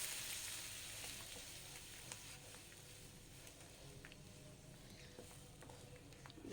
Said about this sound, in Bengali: গরম করা জল দিয়ে দিলাম।